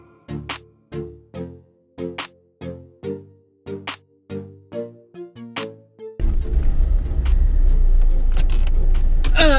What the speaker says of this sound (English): now I'm going to take this car for a drive with the boys